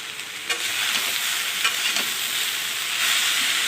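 Raw banana curry stir-fried in a pan with salt, turmeric and green chilli, giving a steady close sizzle with a few soft scraping stirs and no voices.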